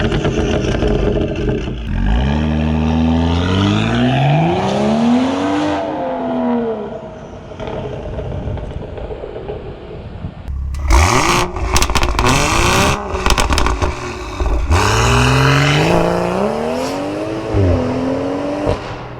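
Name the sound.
BMW M4 S55 engine revving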